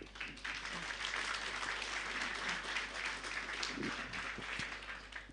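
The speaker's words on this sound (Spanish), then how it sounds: "voy a pedir que demos fuertes aplausos" A church congregation claps through a Sunday worship service, a steady, fairly faint wash of applause that holds for the whole stretch, with a low hum underneath and no clear voices.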